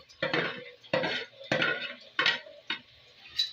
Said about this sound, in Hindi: इनको थोड़ा सा भूनेंगे।